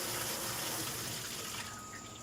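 Water from a hose sprays hard and steady into a washing machine to fill it, a loud continuous hiss and splash close by that eases slightly toward the end.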